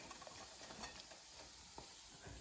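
Dumplings fry in oil in a pot over slightly above medium heat in a Jamaican home kitchen, giving a steady close sizzle and hiss with faint crackles and no voices.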